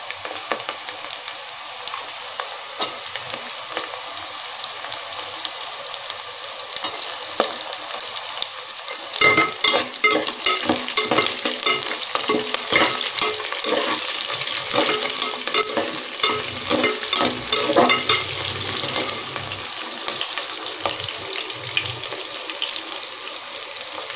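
Chopped onion sautéing in a pan as garlic goes in, a steady close sizzle with scraping stirs that grow busier and louder partway through, no voices.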